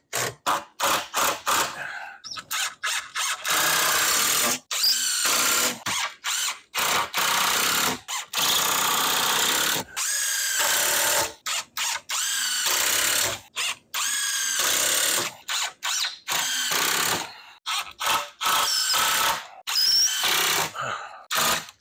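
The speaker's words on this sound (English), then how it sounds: "you push it through the rest of the way with your impact drill" An impact drill drives screws into basement wall framing in repeated loud bursts of whirring and hammering, separated by short pauses, close by and with no talking.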